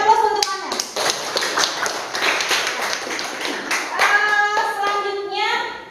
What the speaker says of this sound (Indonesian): Beri aplaus untuk Anda.